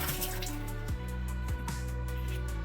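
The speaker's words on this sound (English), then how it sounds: "Give it a rinse" Tap water runs steadily into a sink while lobster meat is rinsed for a lobster roll, a continuous close splashing hiss with a few brief clunks and shifts as the meat is moved under the stream.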